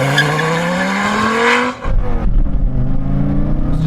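A Dodge Viper launches hard, its engine note rising steadily while the tires squeal and scrub as the car slides sideways, then a rough roaring rumble continues, loud and close.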